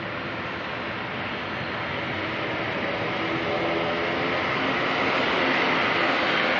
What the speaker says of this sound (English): Gotta love a good 777 departure at night.